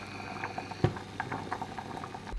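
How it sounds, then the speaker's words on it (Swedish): Water bubbles and pops at a gentle boil in a pot of Brussels sprouts, with small irregular blips and a soft liquid patter throughout. "Sen kokar jag mina brysselkål som vanligt."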